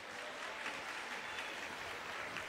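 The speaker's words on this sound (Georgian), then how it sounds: "აპლოდისმენტები გთხოვთ." Audience applause at a school's anniversary concert, a dense steady wash of clapping that holds at an even level for the whole stretch, with no voices over it.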